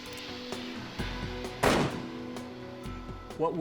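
A single gunshot fired through a pillow into a bag during a ballistics test, a sharp, muffled bang in the middle, with scattered clicks and handling noises around it.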